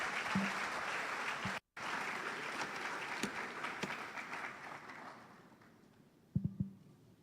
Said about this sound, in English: with the biggest round of applause, please let's welcome our keynote speaker